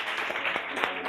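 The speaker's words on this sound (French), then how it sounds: "On applaudit pour lui." A crowd at a music event applauds a young Fula artist: a brief wash of clapping mixed with music and voices.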